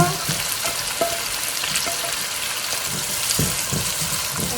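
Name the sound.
onions stir-frying in a pan for Korean jjajangmyeon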